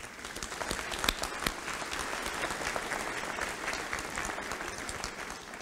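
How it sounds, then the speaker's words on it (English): At a university summer commencement ceremony, a large audience claps continuously in a steady wash of applause with scattered sharper claps. "Give yourselves a round of applause for all your hard work."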